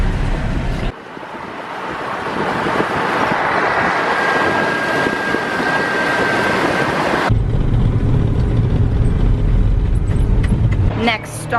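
A moving car with the windows rolled up and the air conditioning broken gives a steady, loud road rumble and engine drone, with a sharp change in tone partway through.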